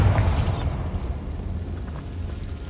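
Bombarda spell explosion in the video game Hogwarts Legacy: a single loud, bright blast at the very start that quickly decays into a low, lingering rumble.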